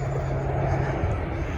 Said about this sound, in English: I think that's a Hercules. I won't swear to it. Or a Globemaster.